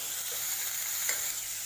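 Vegetables for a veg spring roll filling, including sliced ingredients, stirred and mixed in a hot pan, giving a steady close sizzle with a faint scrape of the spoon.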